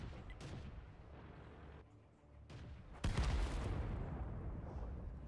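A tank cannon shot in World of Tanks booms suddenly with a loud broadband blast at about three seconds, its rumble lingering over ongoing battle noise and earlier fainter reports.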